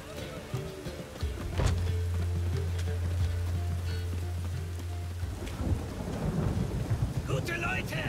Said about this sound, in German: Noch mehr Regen.